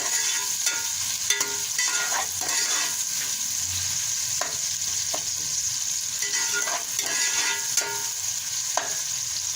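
Rice with peas for matar polao frying and stirring in a pot, a continuous close sizzle broken by repeated scraping strokes of the spoon.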